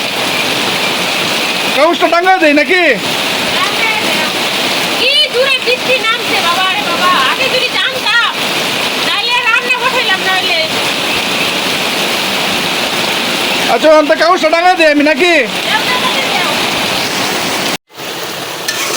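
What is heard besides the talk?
heavy rain falling on a village kitchen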